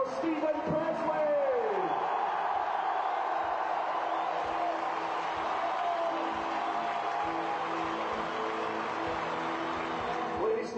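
A stadium crowd roars and whoops as the captain of the 2006 Scottish Cup winners is introduced, a dense, sustained wall of cheering that fills the space, with a voice rising briefly within it.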